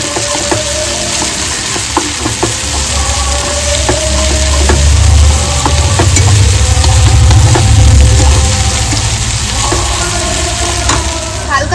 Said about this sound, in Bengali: এটাকে ভালো করে আমি কষিয়ে নেব পেঁয়াজের সাথে ভালো করে কষিয়ে নেবো